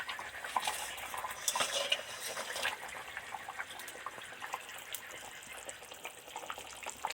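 A spoon stirs and scrapes through a koi fish and eggplant mustard curry in a metal pan, making repeated clinks and scrapes over a soft bubbling simmer. The sound is close and moderately loud, with no speech.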